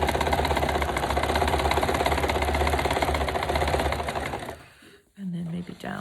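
Sewing machine running a zigzag stitch across a textured journal cover, a steady close mechanical whir with rapid needle chatter for several seconds, then stopping abruptly as a voice begins to speak.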